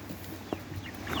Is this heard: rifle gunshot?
no